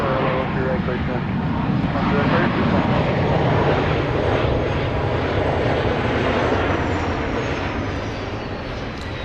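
A jet airliner roars steadily while landing at Dallas Love Field airport at night, a loud continuous rumble that eases slightly toward the end, with radio voices heard faintly beneath.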